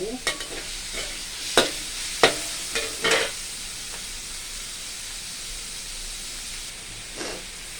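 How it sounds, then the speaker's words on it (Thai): Pork is stir-fried with curry paste in a hot pan under a constant sizzle. A cluster of sharp spatula scrapes and knocks comes early, then the frying continues quietly with one more stir near the end. "ผัดหมูคลุกเข้าให้เข้ากับพริกแกงเพื่อจะดับ เพื่อจะดับกลิ่นคาวหมู"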